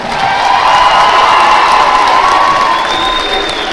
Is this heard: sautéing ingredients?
no